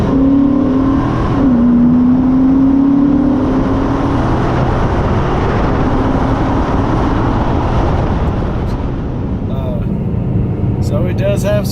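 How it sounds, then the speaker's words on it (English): A car's engine is revved under light throttle as its tires spin, giving a loud, steady roar with a rising whine early on, close by and continuous throughout. "you give it a little gas, it'll definitely spin the tires"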